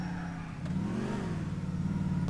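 Car engine in the video game GTA IV while parking, idling steadily and then swelling into a brief rev that settles into a low hum, close and alone with no voices.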